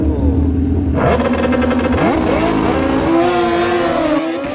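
Two drag-racing motorcycles at a bracket race at Maui Raceway Park launch off the line: a loud idle bursts into a roaring, rising multi-engine howl that climbs steadily through the gears and stays close and sustained.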